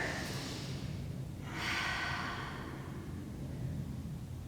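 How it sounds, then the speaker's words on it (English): A deep breath taken during a power vinyasa yoga flow comes through as a soft, airy inhale and exhale close to the microphone, with a brief sharper rush of air partway through. "Take a deep breath here."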